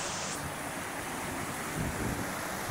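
A strong mountain stream rushes past in a steady, loud roar of water close by, with a broadband hiss and no voices over it.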